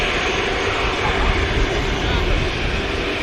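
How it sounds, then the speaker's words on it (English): A Virgin Atlantic Airbus A380 departs Manchester Airport, its jet engines producing a loud, steady, broad roar that stays strong and unbroken throughout. "Virgin Atlantic A380 next to go."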